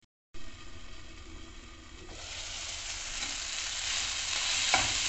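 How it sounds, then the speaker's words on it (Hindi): Tomatoes with a little salt cooking down in a pan as they soften, a steady sizzle building up with scraping stirs of a spoon, close and moderately loud with no talking. "थोड़ा सा कुक करूंगी इसको जब तक ना हमारा टोमेटो अच्छे से नरम हो जाए"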